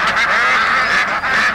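Ducks quack loudly and continuously in a short, dense burst of honking fowl calls with no voices over them.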